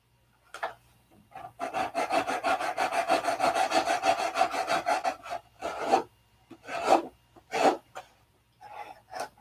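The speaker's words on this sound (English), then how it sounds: "You just take some sandpaper, wrap it around there." Sandpaper wrapped around a tool rasps back and forth across a wooden wing in quick, rhythmic strokes, a continuous close scratching run followed by a few shorter separate passes.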